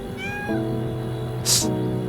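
A cat meows in the Silver Palace video game, a short clear mew over a steady hum of game ambience, followed by a brief bright chime.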